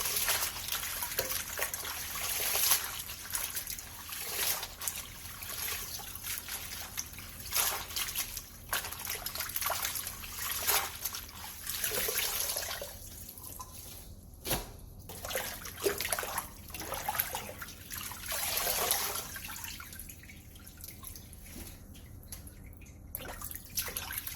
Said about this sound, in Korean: 다 절여진 무청은 물에 2번 정도 깨끗하게 씻어내주세요